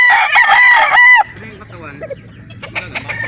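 A rooster lets out a loud, close crow of about a second at a gamefowl market in Calauan, Laguna, followed by softer background bird sounds and general market noise.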